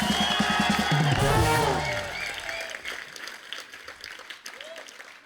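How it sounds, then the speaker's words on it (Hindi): Studio audience applause on a Hindi comedy talk show, loud at first and then thinning out, with voices and cheering mixed into the clapping. "बच्ची और गीता के लिए जोरदार तालियां।"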